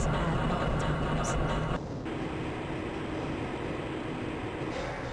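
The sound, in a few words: train moving in the video game Half-Life: Blue Shift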